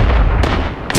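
A loud, close gunshot blast from a firearm in the PvP shooter game Badlanders, followed by a second sharp report, booming and filling the moment.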